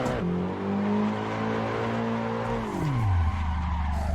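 A video game car engine in Assetto Corsa drones steadily at high revs, then the pitch sweeps sharply down, with a squealing, skidding tire tone layered over the motor as the car drifts.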